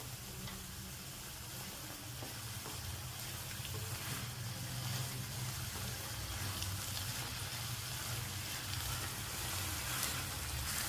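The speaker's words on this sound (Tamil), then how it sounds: "இந்த மசாலா வாடை போகிற வரைக்கும் நம்ம இதை சிம்மில் வச்சுருக்கணும்" Soya chunk masala simmers on low heat in a steady, soft bubbling sizzle that goes on without a break.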